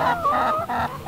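Chickens fuss in a chicken yard, letting out a close, loud run of nasal, honking squawks and clucks with no pause.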